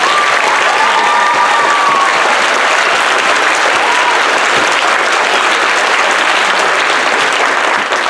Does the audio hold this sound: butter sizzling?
no